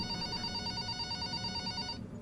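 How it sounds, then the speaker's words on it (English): A telephone rings in the video game The Return to Freddy's 2, a steady electronic ring with bright sustained tones that cuts off near the end, heard alone at low volume. "So I'm curious to see where this phone call is going."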